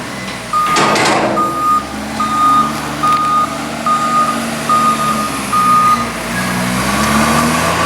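A truck pulling a trailer reverses during a maize harvest, its backup alarm beeping in a regular, evenly spaced series over a loud diesel engine rumble, close by and continuous.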